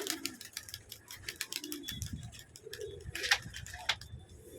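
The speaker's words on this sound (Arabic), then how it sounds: "طيب ادينا فتحنا للحمام كله يا جدعان اهو" Pigeons released from their loft give soft coos and scattered wing clatter and fluttering close by, with light rustling in between.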